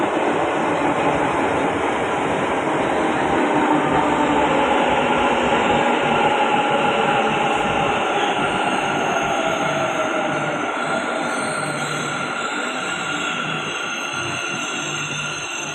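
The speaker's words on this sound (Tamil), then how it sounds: "ட்ரெயின் இதோ" A Bangalore metro train rumbles through a station, a loud continuous roar of wheels and motors with a faint high whine, steady for about sixteen seconds with no voices.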